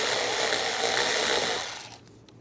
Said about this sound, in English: Using a 8mm socket, we're going to loosen up this worm clamp.